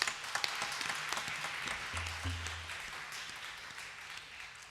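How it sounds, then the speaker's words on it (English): Audience applause for a nattuvangam performer at a Kuchipudi dance debut, a dense hall-filling clapping that stays steady and fairly soft, fading slightly toward the end. "let's give a round of applause to Srimati Aruna Chandra on the Natvangam"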